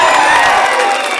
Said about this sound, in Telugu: వారికి గట్టిగా ఒకసారి చప్పట్లు కొట్టాలి అందరూ కూడా.